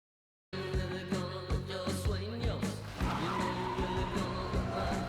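Car driving and skidding in the open-world game Ananta, engine roar with tires squealing and sliding after a brief silent start, loud and continuous.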